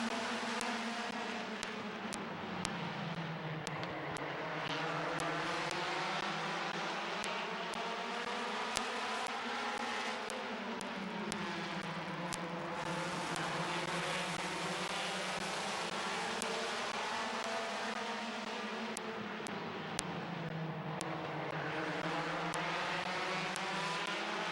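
Race cars at Midvale Speedway roar through the turns as a pack, their engine notes rising and falling in long sweeping waves as they pass, steady and continuous at a distance with no voices.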